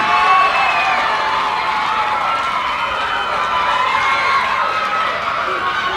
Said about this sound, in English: That's why the crowd was roaring.